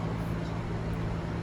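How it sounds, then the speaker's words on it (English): Air conditioning unit running outside on a back patio: a steady low hum with broadband whooshing, faint and continuous over a short stretch. "I have my AC unit going"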